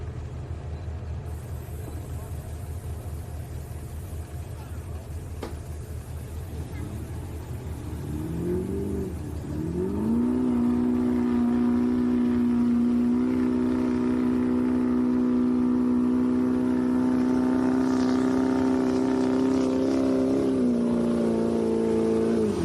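2004 Chevy pickup truck engine at a county fair truck pull, starting as a low rumbling idle, then revving up and holding a loud, sustained high-rpm roar under load for over ten seconds before easing slightly.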